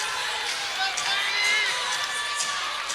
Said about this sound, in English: It's hard to stay focused when the crowd is going crazy over here.